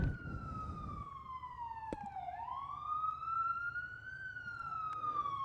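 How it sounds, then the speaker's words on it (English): A siren wails in long rising and falling sweeps, fairly loud and steady, with faint low traffic rumble underneath. "I hear a police car coming by."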